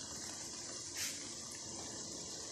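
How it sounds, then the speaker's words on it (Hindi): Chili sauce pours into a pan for an oven-free chicken and vegetable pizza, a short soft gush of liquid about a second in, set against a steady faint hiss of background noise. "अब हम इसमें डालेंगे चिली सॉस।"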